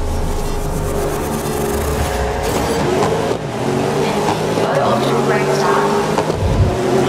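Race cars in Grid 2019 at the start of a race, a dense continuous roar of several engines revving and accelerating together, loud and close, with voices talking over the engine noise.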